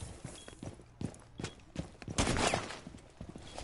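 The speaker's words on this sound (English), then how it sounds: "a gunfight erupts" Gunfire in a video game gunfight, a string of sharp, close shots and bursts in irregular clusters, swelling into a denser volley near the middle before thinning out again.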